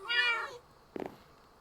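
A Minecraft cat gives one short meow, followed by a faint, brief patter, with no talk.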